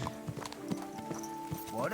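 Horse hooves clip-clopping at a steady walking rhythm in the video game Kingdom Come Deliverance 2, with a faint whinny near the end and game music or voice murmuring underneath.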